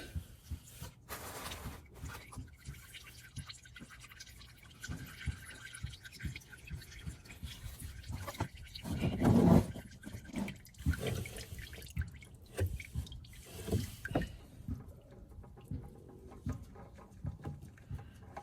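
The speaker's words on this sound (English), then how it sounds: "Let that drain for a little bit." Engine oil drains from a 2020 Hyundai Santa Fe 2.4L into a bucket as a quiet, steady trickle with scattered drips and clinks. Near the middle a louder splash stands out, and no voices are heard.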